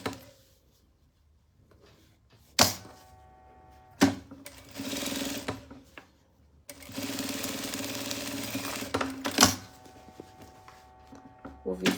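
A domestic sewing machine runs in bursts while stitching a zipper into a fabric pouch, fitted with a zipper foot. Two longer runs of steady mechanical whirring are separated by short pauses and sharp clicks.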